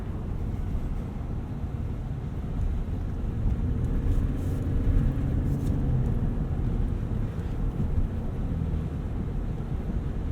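Inside a 2018 Ford F-150 Powerstroke diesel pickup as it drives and accelerates, a dense, steady low rumble of engine and road noise fills the cabin, with some wind, and stays loud and even throughout.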